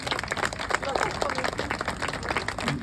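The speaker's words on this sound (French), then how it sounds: "On peut les applaudir." An audience at an open-air cinema evening in Les Sablettes claps for pirates invited onto the stage, a dense patter of applause running the whole stretch with a voice briefly mixed in.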